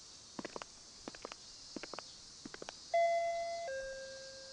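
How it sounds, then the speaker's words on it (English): A doorbell in the horror video game Shin Hayarigami chimes with a clean two-tone ding-dong, loud and close, after several soft muffled taps and footsteps. "We rang another doorbell, but there was no response."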